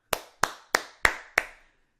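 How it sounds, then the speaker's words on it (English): Five sharp, evenly spaced hand claps from an audience at a Real Madrid post-game event after the Celta Vigo match, close and distinct, with silence between each clap and after the last. "those claps are not for Real Madrid's performance"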